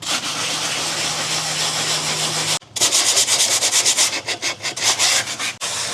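Sandpaper rubs back and forth over a glitter-coated craft piece, a steady close scratching that breaks briefly, then resumes in quicker, uneven strokes with short pauses.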